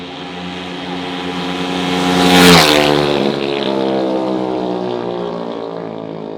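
A minibike engine screams up through a high-pitched rev during a street grudge race, growing louder as it passes close by around the midpoint and then holding a steady buzzing drone as it pulls away.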